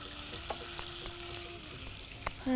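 Food frying in a cooking pot, a soft continuous sizzle with scattered crackles and pops, fairly quiet and close, with a brief clatter near the end and no voices.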